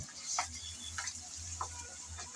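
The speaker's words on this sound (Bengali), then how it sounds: "সেই শুটকি এখন দিয়ে দিলাম শুরুতে একটু তেলের মধ্যে ভেজে নেব বলে" Soaked dried fish frying in a little oil, a steady low sizzle with faint clinks of a utensil stirring at intervals.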